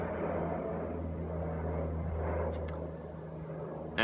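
A distant airplane drones overhead on a farm, a steady low rumble that holds evenly and fades slightly toward the end, faint and alone without speech.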